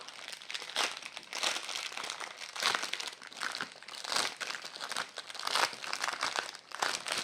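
Someone tears open a plastic-wrapped 30x30 canvas package, making loud, irregular crinkling and crackling bursts of plastic film that continue close up without pause.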